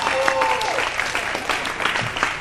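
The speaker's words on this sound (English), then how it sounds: "Let's give a round of applause for them." An audience at a high school stage production of the musical Grease breaks into dense, steady applause, a close wash of many hands clapping. A voice briefly carries over the start.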